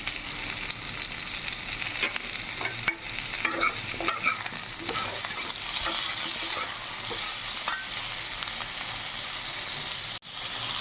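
Taro and potato fry in a pan with a constant close sizzle and hiss, while frequent clicks and scrapes of stirring run throughout, with a brief sharp knock near the end and no talk.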